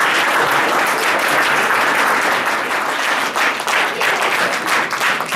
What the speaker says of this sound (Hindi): सभी बच्चे तालियों के साथ स्वागत